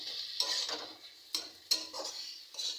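Garlic frying in a pan for homemade pasta: a quiet, steady hiss of sizzling oil with occasional scraping and clinking as a utensil stirs the pan.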